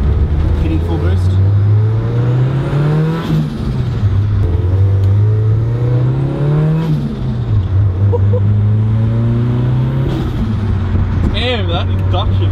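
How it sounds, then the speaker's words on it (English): A turbocharged 325kW Nissan S14 accelerates hard on boost, heard from inside the car: its loud engine climbs through several rising pulls, dropping between them at each gear change, with turbo spool whistling over the roar. "turbo sounds so cool. That spool is ridiculous."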